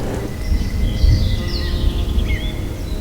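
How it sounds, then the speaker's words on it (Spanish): Low, continuous thunder rumbles through a muddy forested mountain ravine in the Andes, a steady heavy drone with a few faint bird calls drifting over it. "Justo ya está avisando los truenos que va a llover en la tarde"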